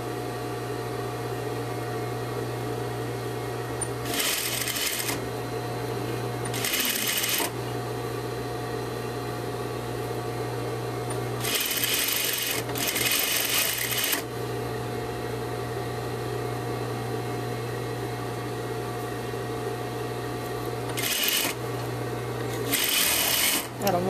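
A sewing machine stitches a seam in knit T-shirt fabric at a quarter-inch allowance, running in several short bursts with pauses between them over a steady background hum.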